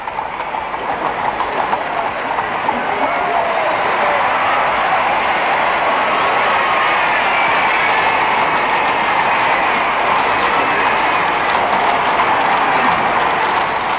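A broad, continuous roar of a large crowd cheering and clapping at a royal wedding, dense and sustained throughout, with no single voice standing out.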